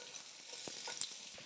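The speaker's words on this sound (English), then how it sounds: "into this extremely smoking hot ghee in my cast iron skillet. It's gonna sizzle a little." Carrots frying in smoking-hot ghee in a cast iron skillet give a steady, soft broadband sizzle, with a few brief crackles and pops rising above it.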